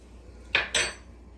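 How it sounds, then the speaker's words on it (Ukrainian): A spoon clinks twice against a metal saucepan while milk with baking soda is stirred, two sharp close knocks in quick succession with no talk. "Тепер додаємо соду"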